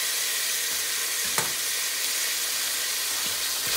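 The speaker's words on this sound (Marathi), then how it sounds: "आणि आता हो पियाव मातशें भाज दिया" Sliced onions frying in ghee for a white mutton korma, giving a dense, even hiss of sizzling oil close up, with one brief scrape of stirring partway through and no voices.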